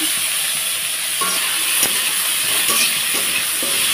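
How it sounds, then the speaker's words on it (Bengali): Onion frying in oil for ghugni, a steady close sizzle and hiss with faint scrapes of stirring and a few soft clinks, no voices. "তো এখন আমি পেঁয়াজটাকে এটার সঙ্গে সুন্দর করে লাল করে ভেজে নেব"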